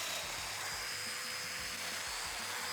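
A domino joiner cuts a mortise in cart banding for a mobile MFT cart, a high, continuous whining motor buzz held steadily at close range for a few seconds.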